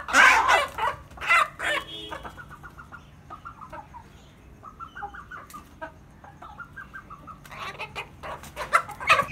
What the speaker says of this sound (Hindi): मुर्गी जो है ना वो चहेतों को मार रही है कि उनके साथ झगड़ क्यों रहे हो।